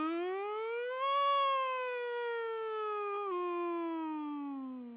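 A single voice hums in imitation of a siren during a vocal warm-up, gliding smoothly upward, then slowly sliding back down with a small dip, steady and moderately loud throughout.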